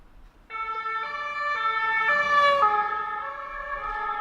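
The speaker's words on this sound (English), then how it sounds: "the sirens are different in Europe, as you can hear by that" A loud two-tone police siren in Paris alternates between high and low pitches in a steady rhythm, swelling closer as it passes with faint road noise beneath.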